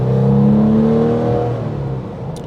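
A 1995 Porsche 993 RS pulls away on a farm road, its engine note sustained and loud with steady harmonic tones that rise then ease as it shifts, heard from inside the cabin.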